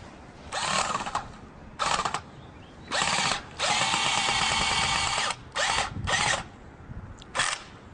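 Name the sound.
power drill driving a screw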